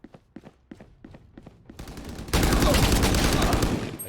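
Gunfire in a video game: a series of separate sharp shots or steps gives way to a sustained, loud rattling barrage of rapid automatic fire that continues to the end.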